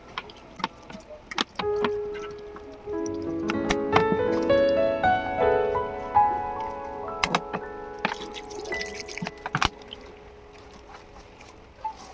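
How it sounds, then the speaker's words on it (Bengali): Water poured into rice-flour batter for jali pitha, a gurgling stream whose pitch rises as the bowl fills, with scattered drips and clinks before and after, heard close with no talking. "এবারে আমি জল দিয়ে দেব।"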